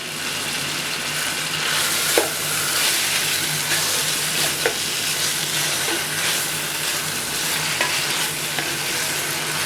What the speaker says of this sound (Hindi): अब इसको करेंगे अच्छे तरीके से फ्राई।